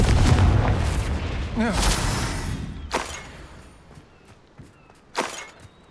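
Confringo spell in Hogwarts Legacy detonating, a loud deep boom that decays into rumble, followed by sharper cracks and impacts of combat.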